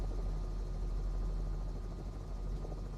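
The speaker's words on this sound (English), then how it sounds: "listen to how the engine noise changes when you really challenge it. It becomes bassier" An SU5 helicopter engine in Microsoft Flight Simulator 2024 drones steadily with a deep, bassy rotor thrum, loud and unbroken while the aircraft climbs under load.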